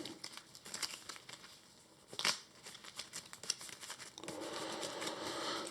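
Game cards from an encounter deck for a tabletop card game being shuffled, heard as soft papery crinkling and riffling bursts with one sharper swish midway, fairly quiet and close with no talk.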